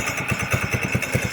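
The engine of a homemade trike labors in high gear, giving a close, loud, uneven low chugging with rhythmic thumping pulses as it nears stalling.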